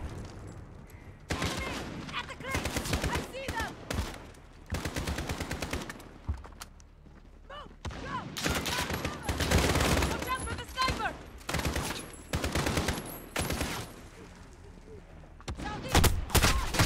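Gunfire in the video game Call of Duty: Modern Warfare, repeated loud bursts of rapid automatic shots with short gaps between them, while a voice speaks during the pauses.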